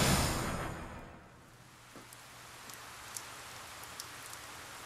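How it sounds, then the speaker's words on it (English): Rain falling in the video game 428, a steady soft hiss of rainfall that swells at the start then settles, with a few faint scattered drip ticks, no voices. "The rain won't let up."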